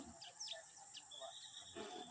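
Birds calling over rice fields, several short chirps and whistles scattered across a quiet background, faint and at a distance.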